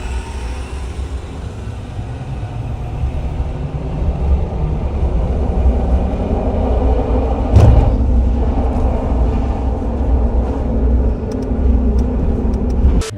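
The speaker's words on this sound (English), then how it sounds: "from a standstill, accelerate to the top of the hill and see who makes it there first" A Tesla Cybertruck pulls away from a standstill and accelerates uphill, a loud, steady electric drive whine and rolling road roar building over several seconds, with a brief thump partway through and no talking.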